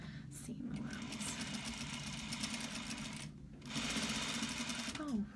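A sewing machine runs a quarter-inch seam on thin fabric for a clutch wallet, a low steady whir that briefly pauses and then resumes slightly louder; a voice is faintly heard.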